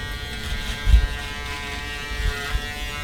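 An electric shaver buzzes steadily through a beard and head shave for a straight-razor lineup, a continuous close motor hum with brief louder swells as it presses against the skin.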